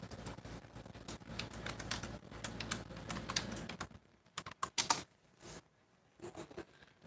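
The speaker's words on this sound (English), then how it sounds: "Just in case I typed it." Rapid clicking keystrokes on a computer keyboard, close and busy for several seconds, then thinning into a few scattered isolated taps.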